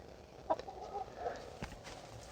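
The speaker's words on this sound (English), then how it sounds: "And then you got chickens in here doing some work." Chickens working a homestead vegetable garden give soft, scattered clucks at a moderate distance over low outdoor background noise.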